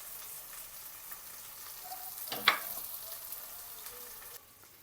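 Shallots, ginger and garlic sautéing in a pan give off a soft, steady sizzle, faint and close, with one brief sharp clatter midway and no talking.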